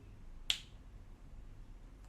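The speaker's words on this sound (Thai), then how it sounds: "ดีดนิ้วหนึ่งที" A magician performing a Japanese card trick gives a single crisp finger snap, close and clear against a quiet room.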